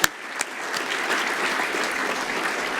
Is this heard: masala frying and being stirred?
no